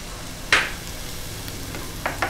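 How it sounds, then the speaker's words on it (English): Chopped water chestnuts and mushrooms sautéing in a pan, with a soft steady sizzle broken by a few brief stirring scrapes. "And we'll just saute this for about a minute more."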